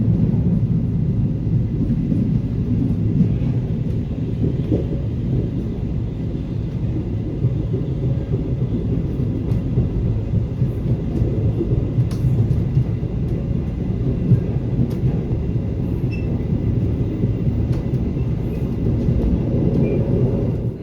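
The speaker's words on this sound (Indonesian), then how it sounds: "Pukul 8:00, kereta api Bangunkarta berangkat dari stasiun Caruban." The Bangunkarta economy train departs Caruban station with a continuous heavy low rumble, steady and loud throughout, no voices present.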